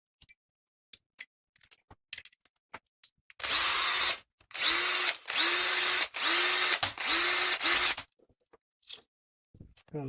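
An electric drill or powered screwdriver unscrews contacts from an electrical device with copper coils and contact groups, sounding in four close, loud whirring bursts of about a second each, with light handling clicks and taps before and after.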